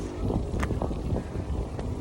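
Wind gusts buffeting the microphone at a high hilltop viewpoint overlooking distant beaches, a steady low roar with brief louder rushes, close and fairly loud throughout with no talk.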